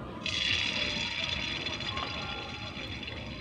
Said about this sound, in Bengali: তেল গরম হয়েছে নাকি আমি দেখে নেব, তার জন্য একটুখানি ব্যাটার দিয়ে দিচ্ছি